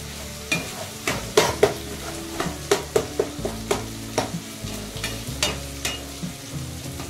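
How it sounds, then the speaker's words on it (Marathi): Green chillies frying in a pan as they are stirred, with a soft sizzle under a run of quick scraping and clinking strokes from the spoon, close and fairly quiet. "आता टाकली हिरवी मिरची।"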